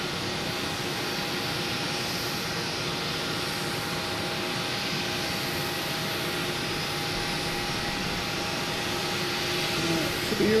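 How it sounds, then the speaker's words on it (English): A JetBlue Airbus A321neo jet arrives at Boston Logan Airport, its engines a loud, continuous broadband roar that holds steady and swells slightly at the end. "Next to arrive is JetBlue and A321neo coming in from San Diego"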